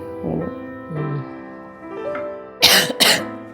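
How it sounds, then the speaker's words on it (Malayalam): Two sharp, close coughs in quick succession near the end, after a few soft vocal sounds, with quiet room tone throughout. "ഈ ചുമ കുറച്ച് ദിവസം ആയില്ല"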